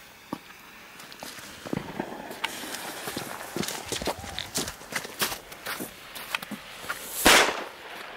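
A Moog Nico salute firecracker goes off among scattered cracks and pops, capped by one loud sharp bang near the end, heard outdoors.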